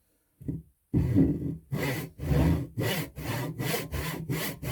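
A hand saw cuts wood for a mortise and tenon joint, its blade guided along a chiseled groove: close, steady back-and-forth rasping strokes in an even rhythm, with no talking.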